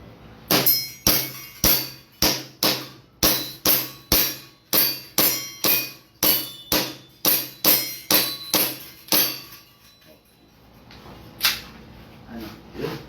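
Staccato 2011 pistol fired in rapid succession, about nineteen sharp cracking shots in a steady fast rhythm followed by a pause and one last shot, close and loud with a ringing tail.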